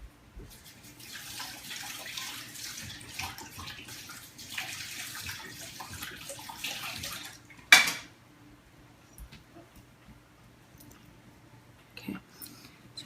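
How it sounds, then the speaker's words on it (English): Sticky hands being washed under a running kitchen tap while making no-bake date and fig bars: a continuous water splash with clinks of dishes, one sharp knock partway through, then quiet with occasional faint handling noises. "I've got my hands really, really sticky, so I'm gonna have to wash it in order to pat this down"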